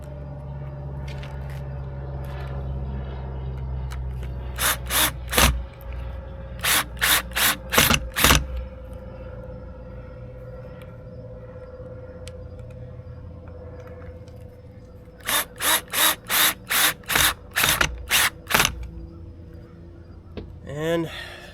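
Sharp, rapid ratchet clicks in two bursts, each a quick run of loud, evenly spaced ticks, as bolts are tightened on the cable of a new Smittybilt soft top on a Jeep, with quiet gaps between.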